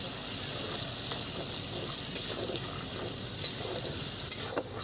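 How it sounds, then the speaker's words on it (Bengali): Chili chicken masala with tomato, salt and chili paste being stirred in a pan, a steady close sizzle with occasional sharp spoon scrapes and clinks, no talking. "এখন আবারও সমস্ত কিছু একটু নেড়ে নিচ্ছি"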